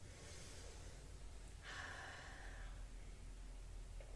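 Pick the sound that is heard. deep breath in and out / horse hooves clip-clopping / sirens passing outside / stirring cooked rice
deep breath in and out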